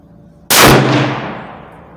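A single loud, close rifle shot from a Ruger American .308 firing 155 grain match ammunition at an outdoor range, a sharp crack that rings and fades away over about a second.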